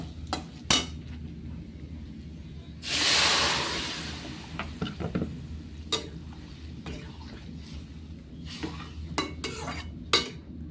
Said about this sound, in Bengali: তেলে পেঁয়াজ আদা রসুন পাঁচফোড়ন তেজপাতা সব কিছু দিয়ে নেড়ে দিচ্ছি